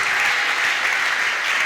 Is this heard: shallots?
no